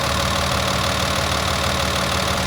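Volvo D6E 6-liter diesel engine in an abandoned loader idling, a loud, steady, rumbling drone with a rapid even knock, close up and continuous with no voices.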